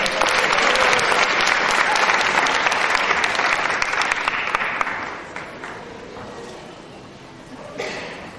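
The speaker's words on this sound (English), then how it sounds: "A round of applause for everyone." Sustained applause at a law school commencement ceremony, a dense wash of clapping from a large audience that holds strong and then gradually thins and fades, with faint crowd murmur at the end.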